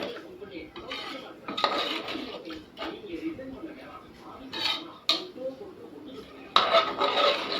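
Metal utensils scrape and clink against a pot in irregular bursts as tomato rice is stirred, with a voice talking in the background.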